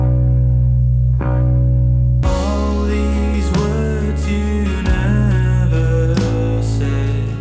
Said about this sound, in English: So processed traditionally, the bass might sound like this.